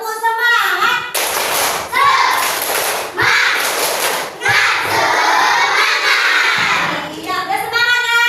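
A class of children does a rhythmic clapping chant in an Indonesian school lesson, loud group shouting in short bursts punctuated by thudding claps, with an adult voice leading at the start and end.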